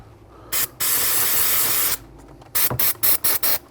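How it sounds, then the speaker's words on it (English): An aerosol can of brake cleaner sprays onto a rear brake bracket of a Volvo XC90, first one long loud hiss and then a series of short rapid bursts, close up. "I'm going to hit it with some brake cleaner to get the rest of the loose dust off."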